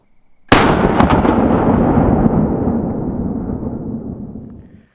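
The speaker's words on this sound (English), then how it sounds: "can the Eyepro deflect the clay shot?" A single loud gunshot fires clay shot at a pair of aviator-style protective eyewear during an outdoor torture test, with a sharp onset and a long booming roll that slowly fades over several seconds.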